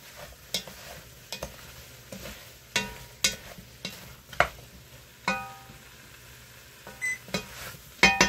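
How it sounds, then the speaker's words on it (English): Homemade beef stew stirred in a pot as browned beef goes back in, a series of scraping, clacking spoon strokes against the pot with a soft sizzle underneath, close and without talk. "we're going to add our beef back in. And I'm going to give that a good mix."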